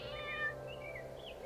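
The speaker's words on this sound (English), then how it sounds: "Look, a kitten!" A faint kitten mews a few times, with short rising and falling cries over a quiet low hum.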